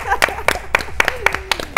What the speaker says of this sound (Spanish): Aplausos para ellos, por favor.